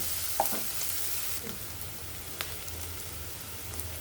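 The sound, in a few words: chopped onions frying in oil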